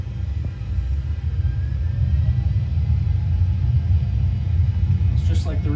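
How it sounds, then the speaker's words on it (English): Light airplane engine at full power during takeoff in a flight simulator game, heard as a deep, steady cockpit rumble that swells after the first second and holds loud and even, with a brief voice sound at the very end. "it sounds exactly like the airplane from the inside"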